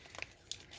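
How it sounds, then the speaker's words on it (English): Packaging is torn open in faint, brief crinkling rips, a few quick bursts close by with no talking. "I'm tearing it all apart anyway."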